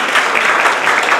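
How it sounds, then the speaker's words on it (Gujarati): An audience at a community gathering claps in a dense, steady burst of applause, loud and close, with no voices standing out. "નિલેશભાઈ માટે જોરદાર તાળી દેજો."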